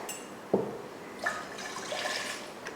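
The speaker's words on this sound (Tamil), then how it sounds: "ஸ்டவ் ஆன் பண்ணி தண்ணி ஊற்றிருக்கேன்" Water poured into a kadai on a kitchen stove while making ragi puttu, heard as a short splash followed by a faint, uneven trickle and pour, quiet and close.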